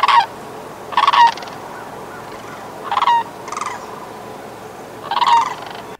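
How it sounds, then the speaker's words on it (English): Cranes give loud, resonant bugling calls, several separate ringing bursts spaced across a few seconds over a steady background, with no talking. "cranes produce loud, resonant, bugle-like sounds that can be heard from miles away"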